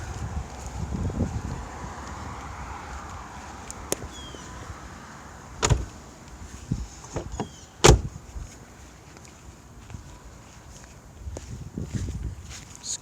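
Volkswagen Mk4 R32 being closed up outdoors, with a few sharp door and hatch thumps and clicks over steady wind noise, plus softer handling sounds and movement around the car.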